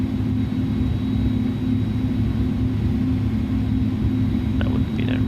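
Steady loud engine rumble and whine from an Airbus A310 braking and turning on the runway at Sint Maarten in a flight simulator, droning evenly with faint clicks near the end.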